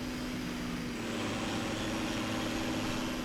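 A tractor engine idles in Farming Simulator 17, a steady low drone with a constant hum running unbroken and fairly loud throughout, with no voices over it.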